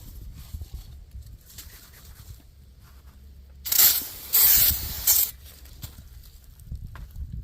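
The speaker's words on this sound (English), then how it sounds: "I take brake cleaner and spray all around here." Two short hissing bursts of brake cleaner sprayed close by on the brakes of a 2014 GMC Terrain, the second one longer, surrounded by quiet handling and rustling noises.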